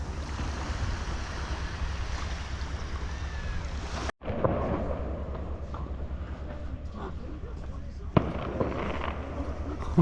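Fireworks going off over Durres Beach, Albania on New Year's Eve, a continuous rumble of bursts and crackle with sharper pops late on, mixed with surf and wind and some voices in the background.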